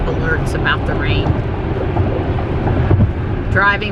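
Rain drumming on a Tesla while it drives along a road, a dense continuous patter over low road rumble, with brief beeps and tones from the car breaking in now and then.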